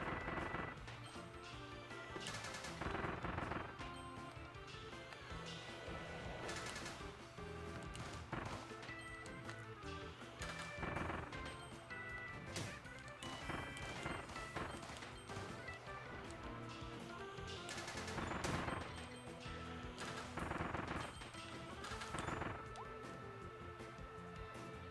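Cannons in the Kirby and the Forgotten Land video game fire over and over, sharp loud booms and crashes repeating irregularly over busy game music and effects.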